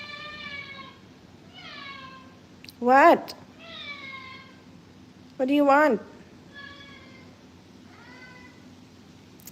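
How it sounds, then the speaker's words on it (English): A house cat in a home kitchen lets out two loud, drawn-out meows while red cabbage cooks, with a person talking softly in between. "my cat screaming at me"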